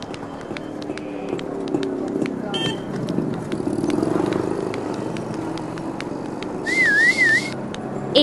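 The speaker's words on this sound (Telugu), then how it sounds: "ఏంటమ్మా విజిల్ మంచి సౌండ్ మీద వస్తున్నాయి?" A man whistles at a girl outdoors, a single bright wavering whistle near the end standing out over a steady noisy street background.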